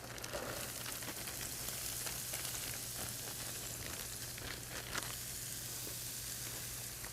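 Chopped zucchini sizzles steadily in a hot skillet of veggie pasta, a dense, even frying hiss with small crackles, close and continuous and with no talking.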